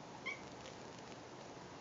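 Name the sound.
cat meowing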